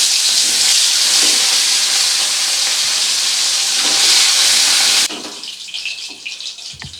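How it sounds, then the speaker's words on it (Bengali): Rohu fish pieces frying in hot oil make a loud, steady sizzling hiss that drops abruptly near the end to a quieter, sputtering crackle. "একইভাবে বাকি মাছগুলো ভেজে নেব।"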